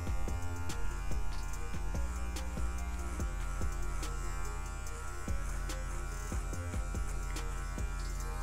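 Electric hair clipper fitted with a number 1 guard cutting afro hair, a continuous close buzzing hum with brief rhythmic dips and clicks as strokes pass through the hair, no talking.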